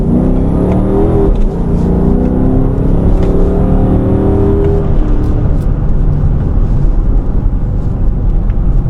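2013 Dodge Charger R/T engine revving through downshifts, loud and close from inside the car, the pitch stepping through gear changes before easing into a lower steady drone.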